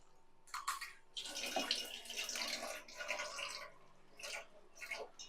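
Water pours from a tap in a home kitchen during cooking, running in bursty splashing stretches with short pauses between them, close and fairly quiet.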